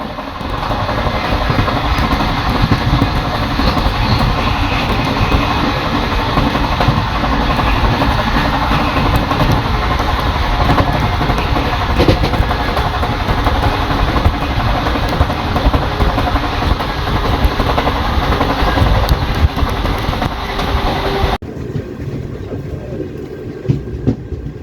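Moving 17011 Intercity Express passenger train between Charlapalli and Ghanpur, recorded from on board: a loud, continuous rumble with rhythmic clickety-clack of wheels over rail joints, cutting abruptly near the end.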